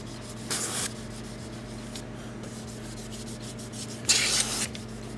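Two short bursts of rubbing, scrubbing against metal car exhaust tips, separated by a low steady hum, with no talking.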